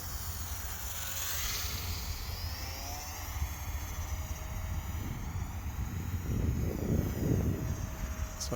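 A small Eachine Mini P-47 Razorback RC plane, 500mm wingspan, drones overhead with a thin whining motor tone that slowly rises and falls in pitch as it flies past, over soft wind rumble.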